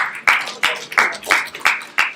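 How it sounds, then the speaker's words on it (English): Auditorium audience at a student showcase event clapping in six distinct, evenly spaced waves of applause, crisp and fairly loud, with no talk over it. "Give yourselves a round of applause."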